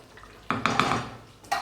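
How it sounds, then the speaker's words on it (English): A spoon stirs oxtail stew in a metal pot, giving a few clattering scrapes and knocks close by. One burst starts the stirring, another short one comes near the end, and a quiet simmer sits between them. "So just a good stir."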